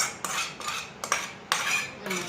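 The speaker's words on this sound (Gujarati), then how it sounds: "હવે ચટણી બનાવીને એ ચટણી બધી આમાં રેડી દેવાની" Chutney poured over bhungla potatoes and stirred in, with several bursts of metal spoon scraping and clinking against a bowl, brief and close, no talking.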